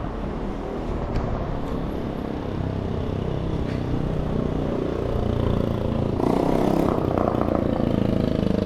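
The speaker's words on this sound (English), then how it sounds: "It's a really loud moped." A loud moped engine buzzes and grows louder as it approaches and passes close by on a Brooklyn street, amid background traffic noise.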